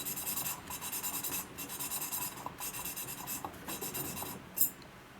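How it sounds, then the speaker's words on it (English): A used S&S 96ci Evo engine valve is lapped by hand against its seat, giving a steady gritty rubbing and scraping in repeated back-and-forth strokes, close and fairly quiet, with a small knock near the end. "We're not lapping the seat, we're lapping the valve."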